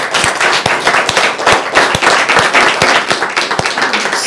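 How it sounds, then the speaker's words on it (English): A small group claps close by, with loud, distinct individual claps in an uneven, loose rhythm, as though only a few people are applauding. "I applaud you women."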